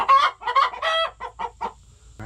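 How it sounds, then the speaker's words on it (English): Chickens cluck close by in a quick series of squawky, rising calls, several bursts spaced by short pauses. "What's all that clucking?"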